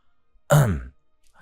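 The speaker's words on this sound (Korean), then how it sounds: "그래서 제가 크게 헛기침을 하며 다가갔는데요." A single loud, close throat clearing, short and sharp, standing alone in otherwise quiet surroundings.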